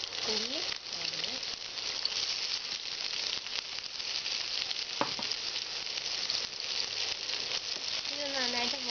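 Chopped onions frying in a pan after mustard seeds have popped, a close, even sizzle running throughout, with a few brief stirring scrapes and a faint voice under it.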